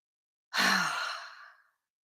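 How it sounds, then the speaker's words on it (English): One long, breathy exhale follows a deep breath, starting abruptly, then fading gradually over about a second in near silence with no other sounds. "Pause and take a deep breath."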